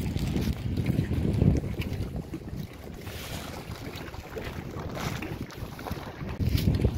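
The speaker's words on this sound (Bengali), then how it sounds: "এই আমাদের বোট চলে এসছে" A boat approaches across open water outdoors, its low rumbling engine and hull noise blending with steady wind buffeting the microphone and faint lapping waves, continuous throughout.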